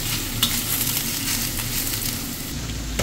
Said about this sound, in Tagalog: Ilagay na natin yung cooking wine saka yung sesame oil. Haluin natin ulit.